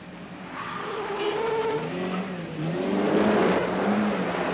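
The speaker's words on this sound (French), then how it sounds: "Dérapage contrôlé" A car slides through a controlled skid on a highway in a 1978 film, its engine roaring and tires squealing in one sustained, rising smear of sound that swells louder toward the end.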